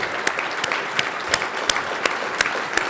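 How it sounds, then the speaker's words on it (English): A room full of people at a legal services anniversary celebration claps, with fairly quiet, steady applause and a few sharper individual claps standing out in a regular rhythm. "get a round of applause from everybody."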